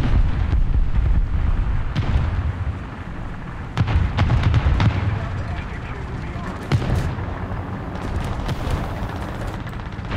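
Tank gunfire in the War Thunder game, with a few heavy booms over continuous low engine rumble and battle noise, all under a player's voice.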